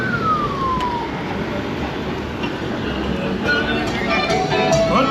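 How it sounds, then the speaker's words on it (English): Emergency vehicle sirens on a mountain road in Puerto Rico: wavering, sliding tones rise over steady road rumble, heard from inside a moving vehicle. "Yep, I love the sirens."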